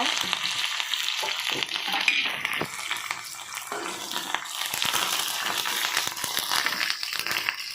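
Onions, curry leaves and cumin sizzle and crackle steadily in hot oil for a mango chutney, a continuous bright frying hiss with small pops and stirring clatter, close and fairly loud with no talking.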